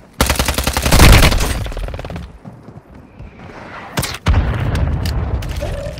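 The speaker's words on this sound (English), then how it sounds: "Friendly mortar strike inbound." Mortar strike explosions in Warzone Mobile, a loud dense barrage of booming blasts and rapid cracks over the first two seconds, a pause, then another heavy burst of detonations rumbling on to the end.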